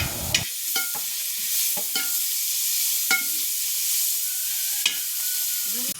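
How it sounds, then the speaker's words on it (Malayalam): A spoon scrapes and clatters through green chilies and curry leaves sizzling in a hot pan, with sharp stirring clicks over a steady frying hiss. "പച്ചമുളകും കറിവേപ്പിലൊക്കെ ഇട്ട് നല്ലോണം ഇളക്കി"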